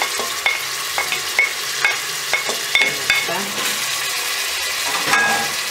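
Chopped onion frying in oil in a pot for a Peruvian puca picante, a steady sizzle broken by several scraping stirs of a utensil, close and fairly loud, with no voices.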